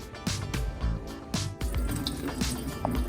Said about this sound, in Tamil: இப்போ இந்த ஹோலில் தண்ணி கொஞ்சமாக ஊற்றிக்குவோம்